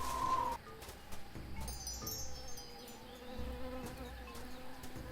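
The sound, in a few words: buzzing bees in Tales of Monkey Island video game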